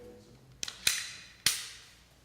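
An unloaded handgun clicks sharply during dry fire practice: a quick pair of small clicks, then two louder snaps, close and alone in a quiet room.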